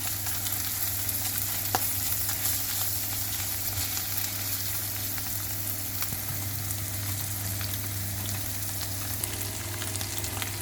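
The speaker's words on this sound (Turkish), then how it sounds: "Oradan almış olduğum sarımsağını atıyorum. Onu da hafif kavuralım." Frozen crushed garlic sautéing in a pan, giving a steady, dense sizzle and crackle throughout with a constant low hum beneath and no talking.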